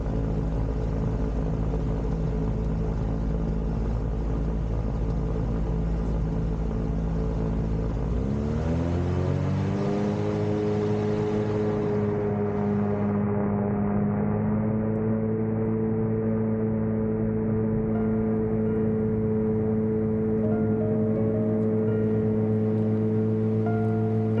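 A light aircraft engine drones loudly and continuously at close range during takeoff with a tailwind, its pitch shifting partway through as power changes and then holding a steady, harmonic-rich roar.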